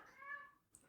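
A Siamese cat perched high on a bookshelf gives one short, clear meow, fairly quiet and close, followed by a faint brief rustle.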